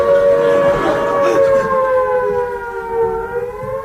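A wartime air raid siren wails loudly and alone in a radio comedy scene, its rising and falling tone sliding slowly downward as it winds down.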